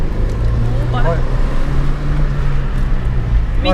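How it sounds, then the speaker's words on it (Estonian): A small 1.8-litre Eco petrol car in Australia, heard from inside, gives a steady low engine drone at full throttle, with voices speaking over it. "Panen gaasi põhja."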